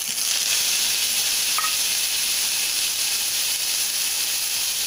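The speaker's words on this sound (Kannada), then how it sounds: "ತುಪ್ಪ ಒಂದು ಟೀಸ್ಪೂನ್ ಬಿಸಿ ಮಾಡಿಕೊಂಡು ನುಗ್ಗೆ ಸೊಪ್ಪನ್ನು ಹಾಕ್ಕೊಳ್ಳಿ" Drumstick leaves sizzling in a teaspoon of hot ghee make a steady, loud, even hiss that runs the whole time without pause.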